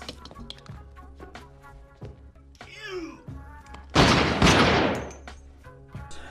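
Gunshots from the crime film Snatch: several sharp thuds and bangs over a music score, then a loud, dense burst of gunfire near the end.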